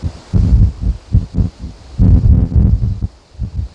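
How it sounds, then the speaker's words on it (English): Strong wind buffets outdoors near newly planted trees, low rumbling gusts pulsing and swelling in waves, loud and close as if striking the microphone. "I don't know if you can hear the wind"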